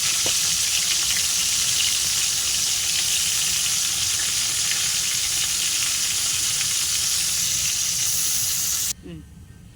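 Hilsa fish fries loudly in oil, a dense continuous sizzle close by that stops abruptly near the end, leaving quiet room tone.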